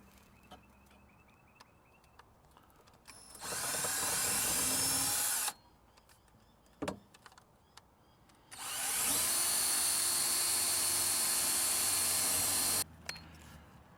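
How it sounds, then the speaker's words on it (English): A power drill whirs in two sustained bursts while boring a guide hole for a camp drawer install, a shorter one then a longer one, with quiet pauses and a brief click between. "Once you've got your guide hole done, you can step your drill size up to the actual size required"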